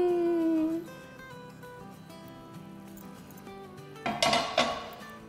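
Italian wedding soup is served from the pot with a short flurry of metal clinks and scraping near the end, after a quiet stretch under soft tonal background music.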